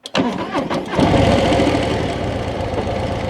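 A Harley-Davidson Street Bob 117ci motorcycle engine cranks with a few quick bursts, then catches and settles into a loud, deep, steady rumble close by.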